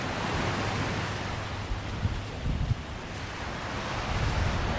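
Waves wash steadily on Cheoc Van Beach in Macau, a continuous surf hiss mixed with wind buffeting the microphone, with a few soft thumps in the middle.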